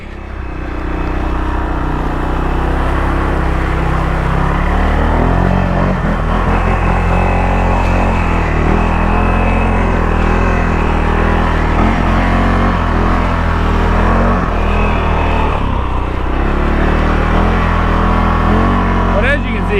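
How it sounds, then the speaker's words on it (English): A CFORCE 600 ATV engine runs steadily while riding, a continuous loud drone with small shifts in pitch, and a voice talks over it. "this is a good ATV"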